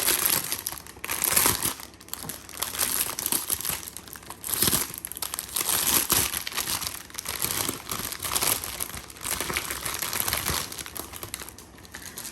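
Loud close crinkling and crumpling of plastic packaging from a diamond painting kit, continuous rustling with sharper crackles throughout, no talk.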